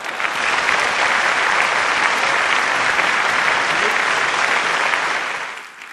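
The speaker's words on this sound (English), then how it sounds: "Please join me in a round of applause for them." Loud, dense applause from an awards event audience for the sponsors, sustained steadily for several seconds before tapering off at the end.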